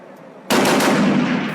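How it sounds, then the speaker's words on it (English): Sudden dense burst of rapid gunfire and rocket attacks in Kunduz city, Afghanistan, erupting after a brief quiet moment, continuing loud and sustained with heavy rattling blasts. "Gunfire and rocket attacks in Kunduz city"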